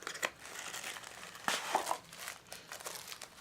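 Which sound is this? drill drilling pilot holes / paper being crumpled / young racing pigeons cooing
paper being crumpled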